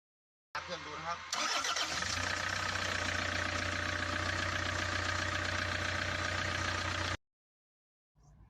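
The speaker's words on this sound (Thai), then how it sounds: "เราจะมาลองสตาร์ทกันดูครับ เครื่องยนต์ติดหรือเปล่านะครับ" A Toyota Commuter van engine, with a starting fault, cranks briefly, then catches and settles into a steady, loud idle that runs for several seconds before cutting off abruptly.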